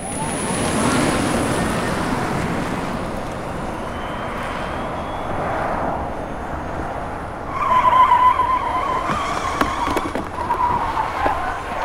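All-electric Fiat 500e on a test run: road and tire noise swell and fade as the car passes, ending in a brief tire squeal and a few sharp knocks, fairly faint overall.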